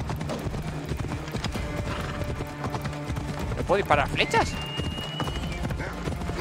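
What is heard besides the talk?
horse galloping and neighing in video game Assassin's Creed Odyssey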